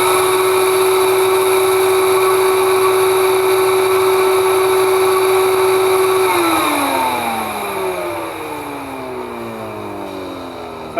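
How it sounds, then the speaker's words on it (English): Vinyl record cleaning machine running its vacuum, a loud steady motor whine with a sustained tone that then winds down, pitch sliding lower over the last few seconds as the motor spins down. "Now it's time to vacuum."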